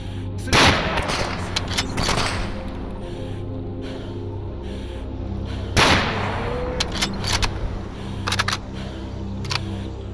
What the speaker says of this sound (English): SR-2 Verisek is a Russian submachine gun manufactured by Snishamash